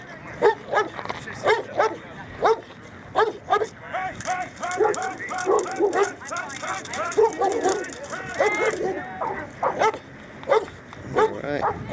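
A Presa Canario barks during personal protection training, firing repeated loud, close bursts in uneven volleys with short pauses between them. People talk and handle the dog in the background.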